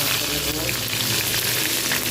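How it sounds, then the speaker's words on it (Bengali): Eggs frying in a little oil with turmeric and salt, giving a steady, close, dense sizzle that holds evenly throughout with no voices. "হলুদ লবণ ডিমটা ভেজে নেবো"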